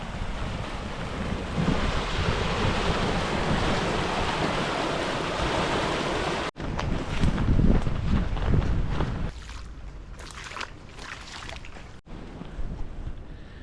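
Fast river current rushing through a winter storm makes a loud, steady broadband roar with wind buffeting the microphone, broken by two abrupt cuts, with no voices.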